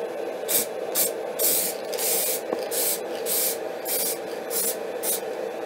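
Spray bursts onto thin 6 micron mylar film, a series of short, loud hissing blasts in an uneven rhythm, each lasting under a second with brief pauses between, close to the microphone.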